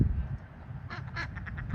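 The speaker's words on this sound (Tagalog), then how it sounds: "Ito yung mga duck ko, panoorin natin." Ducks quack near a lake, a short cluster of four or five nasal calls over a low background rumble, fairly faint and brief.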